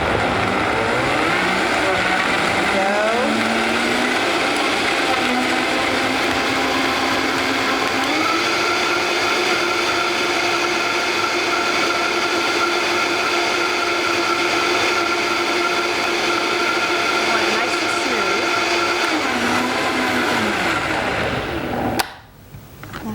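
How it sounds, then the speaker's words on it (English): A Vitamix blender blends a green smoothie in one long, loud, steady motor roar with whirring harmonics that rise slightly as the contents smooth out, ending abruptly when switched off. "So let's blend this guy up here."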